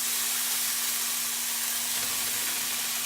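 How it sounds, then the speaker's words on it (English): Bacon frying in a pan over medium-high heat gives a steady, even sizzling hiss with a faint constant hum underneath, close and continuous with no talking. "you put the bacon on. Put it on medium-high"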